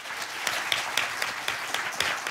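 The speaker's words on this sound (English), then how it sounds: "I'd like for everyone to give a round of applause to our delightful speakers" A steady round of applause from an audience thanks the speakers at a health talk on atrial fibrillation. Dense, continuous clapping with a few sharper claps standing out, all heard without any talking over it.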